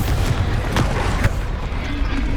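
Explosive spell blasts from the Hogwarts Legacy video game, several sharp booming bursts in quick succession over a dense, noisy battle roar.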